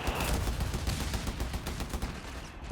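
Rapid machine gun bursts in the strategy game Company of Heroes 3, a dense rattling stream of shots, loud and close, with no voices.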